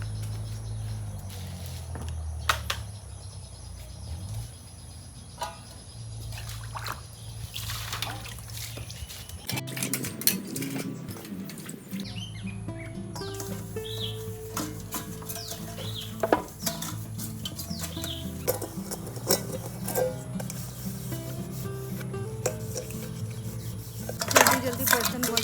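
Dishes are washed by hand in a village kitchen in Jharkhand, with steady clinks of pots and plates, scraping, rubbing and splashing water over about twenty-five seconds, close and busy throughout.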